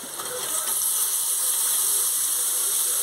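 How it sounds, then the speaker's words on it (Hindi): Tomatoes land in a hot pan of roasted turmeric and chili for a besan pakora curry, setting off a steady, bright, close hiss of sizzling that swells slightly after the first moment and holds without voices. "अब हम इसमें टमाटर डालेंगे"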